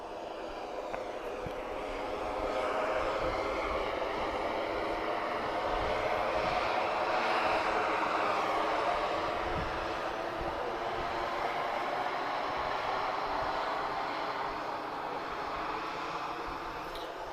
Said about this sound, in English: next departure, we've got Ryanair. This is Foxtrot Romeo 6054. She'll be off to London Stansted. 737-800.